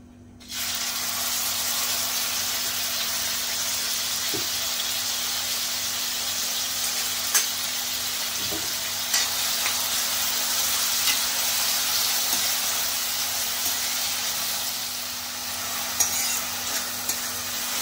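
Onion sizzling steadily in two large spoonfuls of hot oil for a squid masala, a dense continuous fry hiss from start to finish with occasional small pops and utensil stirs, no voices.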